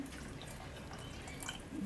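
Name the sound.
water added to cooking pot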